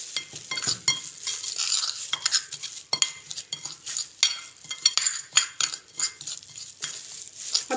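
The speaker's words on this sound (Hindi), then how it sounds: "इसको अच्छे से मिक्स कर लेना है।" Spice paste marinade for crispy fried chicken legs being stirred and mixed in a bowl, a steady run of close scraping, clinking strokes with short irregular pauses, no voices over it.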